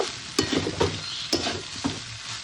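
Leftover cooked rice being fried and stirred in a pan, sharp scraping strokes of a spatula repeating every half second or so over a soft sizzle, close and distinct, with no talking.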